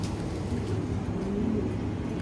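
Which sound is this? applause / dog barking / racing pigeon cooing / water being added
racing pigeon cooing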